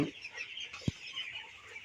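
Broiler chickens in a poultry shed cluck softly, with one short, louder cluck standing out over a faint, steady murmur of the flock.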